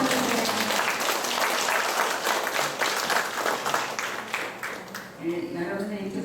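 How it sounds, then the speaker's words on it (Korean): A hall audience at a Korean Vincentian training session claps to welcome new members from Namwon, sustained dense applause that thins out near the end as a voice begins speaking. "네, 박수 쳐주세요."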